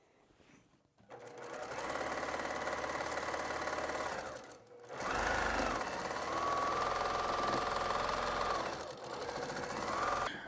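Domestic sewing machine top stitching a fabric pet bed made from scraps, running in long steady bursts with a motor hum and rapid needle chatter, briefly stopping twice between runs.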